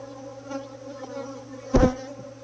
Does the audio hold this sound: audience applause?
no